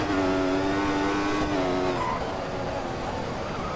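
A Formula 1 car in the F1 2014 racing game on cold tyres: a loud, high engine whine holds and then drops as the car brakes, with tyre noise coming through near the end and no talking.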